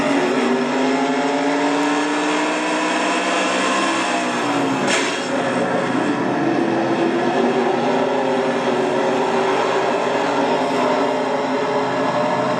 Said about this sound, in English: Let's go for a ride in the Quaker State Buick